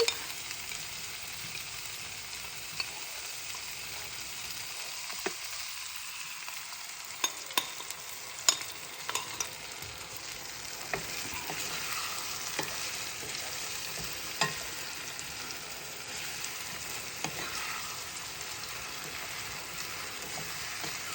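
Prepared sauce is stirred into broccoli and tofu frying in a pan, giving a steady low sizzle with scattered scraping clicks of the spatula, heard alone without talk.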